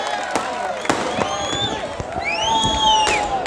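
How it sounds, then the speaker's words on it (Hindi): An election rally crowd at a 2024 Lok Sabha campaign event claps and cheers steadily, a dense wash of applause with whistles and shouts rising through it, loud and continuous throughout. "भरपूर तालियां बजा करके शान हिंद निहाल अहमद साहिबा का इस्तकबाल करें।"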